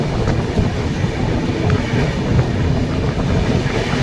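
The Howrah–Dibrugarh Kamrup Express passenger train rolls steadily along the tracks near New Jalpaiguri, a continuous heavy rumble with faint clattering wheels, close and loud, with no voices.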